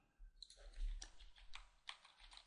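Computer keyboard keys are pressed during character sculpting and painting work, giving faint, scattered clicks in a quiet room.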